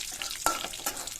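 Hot oil sizzles steadily in a cheenachatti set on the stove for cabbage thoran, with two brief clinks of a utensil against the pan breaking the soft, close hiss.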